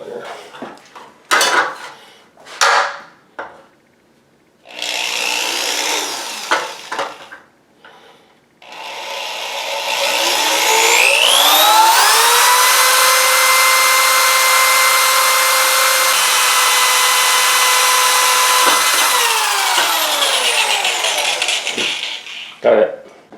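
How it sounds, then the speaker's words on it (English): A power drill boring through a metal electrical box, first a few clunks and short bursts, then a long steady high whine under load that winds down at the end. "when I'm drilling metal like this, I use successively larger bits to get the diameter that I want on the hole."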